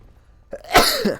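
A single sudden sneeze bursts loudly right into a close microphone after a brief quiet intake, with no talk around it.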